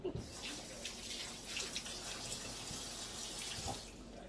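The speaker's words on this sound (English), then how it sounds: "Really don't have to rinse it since I took the first layer off, but I will." Tap water runs steadily as a vegetable is rinsed for shrimp scampi pasta, a continuous close splashing rush with small spatters, no one talking.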